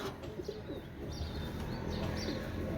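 A pair of Oman teddy running pigeons coos softly at a pigeon fair, with a few low rounded coos rising over a quiet background murmur and no talk.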